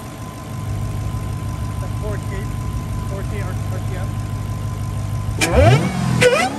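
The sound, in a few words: Dodge Hellcat Redeye engine revving with stock intake whine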